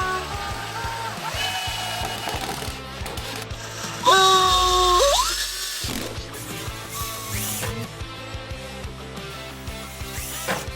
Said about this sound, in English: So it was time for drilling. I started to make small holes so the nail after it will penetrate easily.